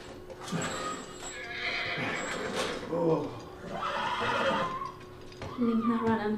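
A horse whinnies loudly in the video game The Last of Us, followed by snorting and clip-clopping hooves, over steady game background sounds.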